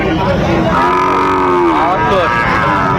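A young Sahiwal bull calf at a cattle market gives one loud, close, drawn-out moo that rises and then falls, heard over the steady background noise of the market.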